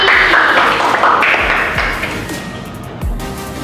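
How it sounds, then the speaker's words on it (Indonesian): Classroom students clapping for a classmate, a loud close burst of uneven hand claps that thins out and fades, followed by a few scattered claps. "tepuk tangan untuk Novi"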